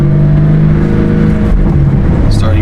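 BMW G80 M3 fitted with front mount intakes accelerates from second gear, heard from inside with the driver's window open: a loud, steady engine drone and intake roar rising in pitch throughout, with no talk.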